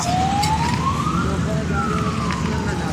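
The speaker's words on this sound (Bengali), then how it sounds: "এই অ্যাম্বুলেন্সটা মনে হয় ওইদিকে যাবে সোজাই চলে যাবে" An ambulance siren wails, rising and then falling in pitch, over a steady rumble of road traffic nearby on the four-lane NH 12 near Kalyani.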